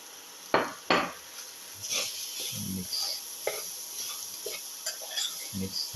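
Grated coconut and salt are stirred together in a dish with a spoon, giving a couple of sharp knocks followed by soft, irregular scraping and tapping at close range.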